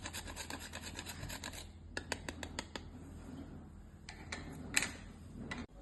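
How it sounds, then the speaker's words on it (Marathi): A whole nutmeg is grated by hand for a traditional kharvas sweet made from colostrum milk. Quiet, scratchy rasping strokes come in quick bursts with a few sharp taps, close up and faint, with no talking. "आता ह्याच्यात थोडंसं जायफळ खिसून टाकायचं"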